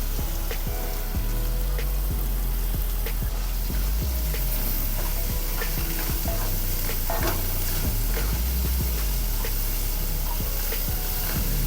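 Chopped onion sizzles steadily in a hot pan, a continuous loud frying hiss with occasional stirring scrapes and clicks throughout.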